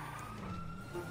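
Ambulance siren sounding outside in a GTA game scene, a steady wailing tone with engine rumble underneath, fairly close and continuous.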